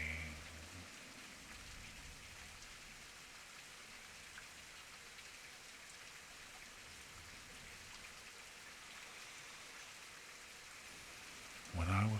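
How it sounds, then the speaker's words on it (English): Steady, soft rain falling continuously, a gentle even hiss with no other sounds until a brief louder bump at the very end. "sound of the rain."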